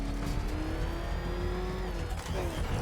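The Batmobile's engine in Batman: Arkham Knight drones steadily and loudly throughout, with a rising pitch suggesting acceleration and a slight dip near the end.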